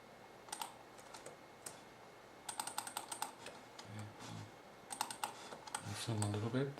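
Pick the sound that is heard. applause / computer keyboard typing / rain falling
computer keyboard typing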